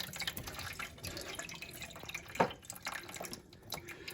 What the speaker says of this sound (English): I'm gonna rinse this out to get all those pieces out of there